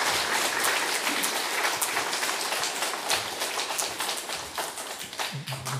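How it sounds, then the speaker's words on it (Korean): A church congregation at a Sunday worship service in Suncheon applauds loudly as a welcome address is given, a steady dense patter of many hands that continues for several seconds without talk. "환영사를 전달할 때 크게 박수 쳐주시기 바랍니다."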